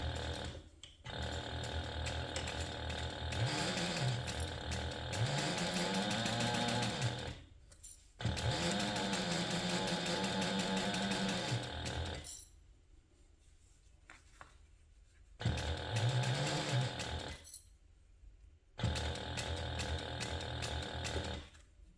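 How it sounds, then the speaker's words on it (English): A sewing machine stitching a 1/4 inch seam on a handbag, running in loud, rapid mechanical bursts of several seconds each, with short pauses between runs and a rising and falling motor whine inside each burst. "I'm going to sew this in place using a 1/4 inch seam allowance"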